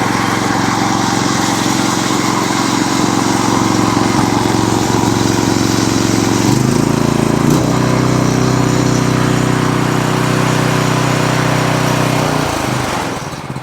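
A Predator 212cc small engine with a faulty carburetor runs loud and close, a steady buzzing drone whose pitch shifts as the speed surges up and down, then dips near the end.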